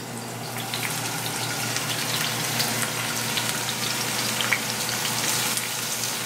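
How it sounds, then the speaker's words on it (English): Diced ham and onions frying in a pan, a steady close sizzle and hiss running throughout with a few faint crackles and no talking. "So we're going to get some ham diced up. We're going to add that to the onions."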